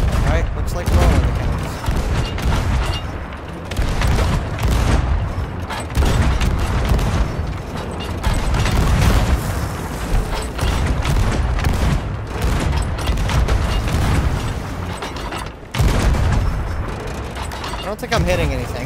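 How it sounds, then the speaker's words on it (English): Heavy booming ship cannon fire in a video game in rapid volleys, loud and continuous, with chaotic battle noise and people shouting over it. "They're launching cannons over here."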